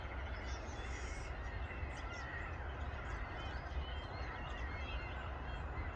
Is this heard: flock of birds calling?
yes